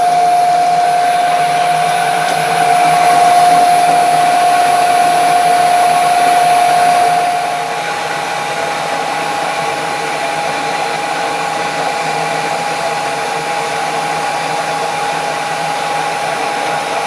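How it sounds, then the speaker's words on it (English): A power tool whines steadily while cutting a 1/4 inch slot in a metal part for a weld positioner, a loud sustained tone that steps down slightly partway through and then runs on evenly. "let's cut a 1/4 inch slot in this"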